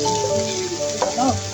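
Onions frying in hot oil give a loud, close, steady sizzle. Stirring clinks and scrapes sound over it.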